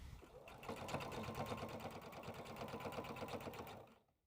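A sewing machine basting the edges of fabric runs in a steady rapid stitching rhythm for about three and a half seconds, close and fairly quiet, then stops abruptly.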